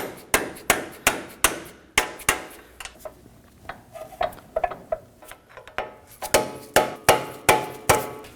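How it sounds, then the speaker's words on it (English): A rubber mallet strikes a small chisel to drive a CV axle into the lower ball joint of a 2017-2024 Nissan Armada 5.6L V8, giving sharp, evenly spaced taps in runs, with a softer, irregular stretch in the middle. "Using a rubber mallet and a small chisel, you can go ahead and tap onto the lower ball joint to get it into the hole."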